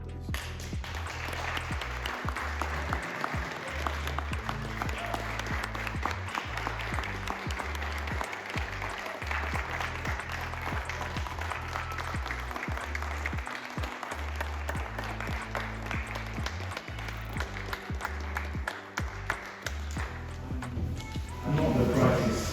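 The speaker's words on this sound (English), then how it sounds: "it's in order for us to give him and Jen, his wife, a round of applause" Church audience giving a round of applause for a pastor and his wife at a Baptist union event: sustained dense clapping from a large crowd, steady and fairly distant, with voices mixed in.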